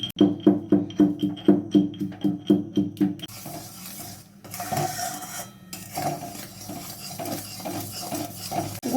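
Cumin seeds pounded in a mortar and pestle, a run of rapid, evenly spaced thuds for the first few seconds, then softer grinding and scraping strokes continue unevenly.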